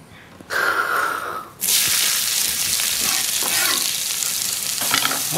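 Sliced onion hitting hot oil in a frying pan, a sudden loud sizzle that jumps up and then holds as a steady, close hiss with faint stirring.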